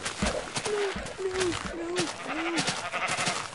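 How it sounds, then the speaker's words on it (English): Several short bleats from sheep in the Minecraft video game, repeated at a steady pace over a busy background of game sounds and noise. "there's a lot of sheep"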